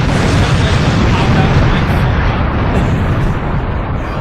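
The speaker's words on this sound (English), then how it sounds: "I'll throw explosions on the screen." A dense, continuous rumbling roar fills the clip, like sustained explosions from the anime OVA Redline, loud and close with no distinct pauses.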